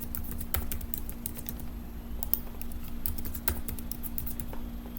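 Rapid keystrokes on a computer keyboard while entering a password on an eCommerce sign-up form, an irregular run of close clicks over a steady low background hum.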